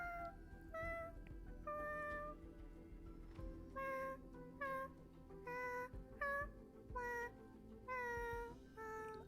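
Several cats meow in Honkai Star Rail, with clear, tonal mews repeating in an irregular series over a low game soundtrack, voiced loudly and close.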